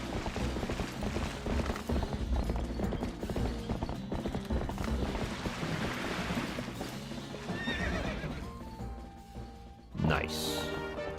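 Epona, the horse in Twilight Princess HD, gallops with rapid, loud hoofbeats over game music and clattering effects, then lets out a sharp whinny near the end.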